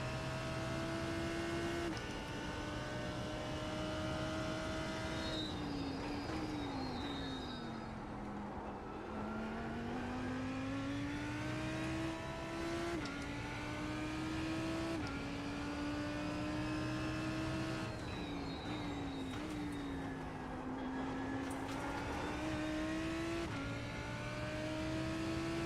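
A simulated McLaren race car engine in the iRacing sim, a continuous loud high-pitched drone whose pitch dips and climbs again through shifts and corners, heard alone with no talk.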